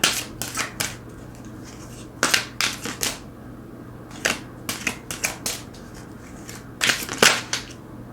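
Tarot cards are shuffled by hand close up, with bursts of riffling and slapping in irregular clusters separated by short pauses, loud and without speech.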